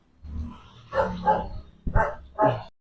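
A dog barks loudly and close by with about four sharp, evenly spaced barks over a couple of seconds, each one distinct and clear against near silence.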